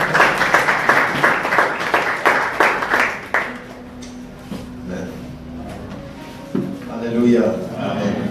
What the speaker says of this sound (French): Sous vos acclamations, nous allons recevoir l'orateur qui interprète.